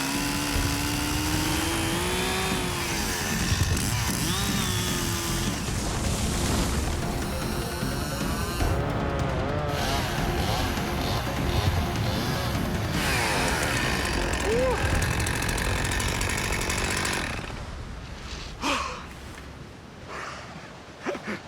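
A chainsaw cuts into a dead standing tree in deep snow, the engine snarling loud and close as it revs up and down, then dropping away toward the end with a few scattered knocks.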